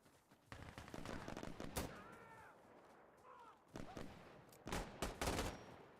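M1 Garand rifle shots fired in a video game, several sharp loud cracks spread across the moment with brief quieter gaps, mixed with game effects and faint voices.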